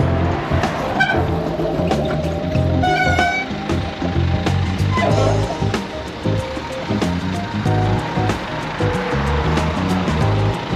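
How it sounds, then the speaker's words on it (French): Heavy car traffic passing close by on a commute by bicycle, a steady dense roar of engines and tyres with a few brief horn-like toots, no talk over it. "il y a trop de voitures là."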